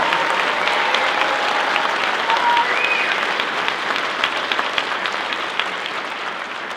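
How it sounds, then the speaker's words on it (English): Quick round of applause from a concert audience for seven middle school honor band soloists, dense steady clapping that gradually tapers toward the end. "one more quick round of applause for those 7 students that put in that extra time for their solo"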